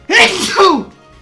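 A single loud, close sneeze with a rising voiced wind-up followed by a sharp burst, then quiet.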